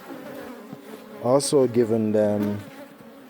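Honey bees buzz steadily in a close, continuous drone around a hive stacked with frames of eggs and food, while someone talks over the hum for much of the moment.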